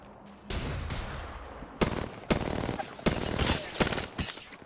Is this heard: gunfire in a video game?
yes